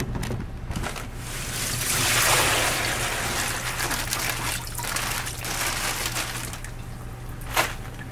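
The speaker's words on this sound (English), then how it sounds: "and the rest of the water drains out." Water drains out of a plastic bag used to shrink paracord, a continuous trickling and splashing that swells in the middle and tapers off, with a small knock near the end.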